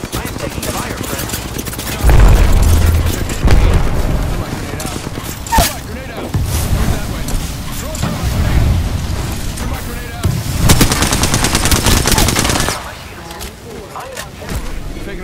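Automatic weapon fire from the online battle royale shooter Apex Legends, sustained bursts and rapid volleys that swell and fade over several seconds, loud and close, with game effects mixed in.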